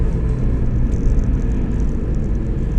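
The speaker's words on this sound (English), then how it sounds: "let's try another couple of pulls in it just to see what the clutch does" Budget winter-beater drift car with basic coilovers, its engine droning loud and steady with a low rumbling roar throughout as it pulls, no talk over it.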